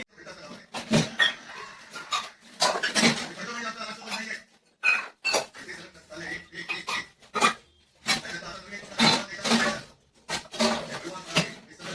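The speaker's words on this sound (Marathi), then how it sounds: "चला आता मी भांडी घासते" Dishes and utensils being scrubbed and rinsed in a home kitchen, with repeated bursts of clattering and scraping separated by short pauses, fairly close and moderately loud.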